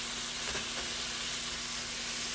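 Steak for pepper steak sizzles steadily in a hot pan, a dense continuous hiss with a faint steady hum beneath and a couple of soft stirring scrapes near the start.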